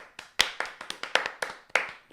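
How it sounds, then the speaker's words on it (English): A small audience gives a quick round of scattered applause for a joke: about ten crisp, uneven hand claps in a short burst, close and fairly loud, with no voices. "Round of applause for Michael Towns and that fantastic joke."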